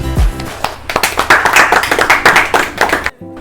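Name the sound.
audience applause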